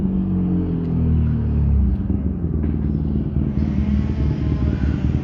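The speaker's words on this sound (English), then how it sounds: "Let's let this motorcycle go by real quick." A motorcycle rumbles past near an outdoor burial site for interred ashes, a deep engine drone that swells and then shifts and fades as it moves away over about five seconds, with no talk.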